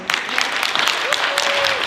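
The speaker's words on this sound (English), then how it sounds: "Can we clap for the pastor?" A church congregation claps for its pastor at a community forum in Bethel Baptist Church, Collegeville, a brisk crowd applause with a faint voice or tone briefly riding over the hands.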